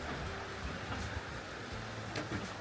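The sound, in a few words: heavy rain falling on a cabin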